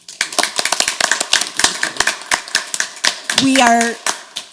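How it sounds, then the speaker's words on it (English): Scattered applause from the audience at a Novi Public Library Board of Trustees meeting: loose, uneven claps close by, with a voice speaking briefly near the end. "join me in one more big round of applause so that we can thank all of them"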